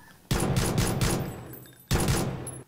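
Two loud, close bursts of rapid gunfire from the video game PUBG, the first lasting over a second, then a pause before the second burst.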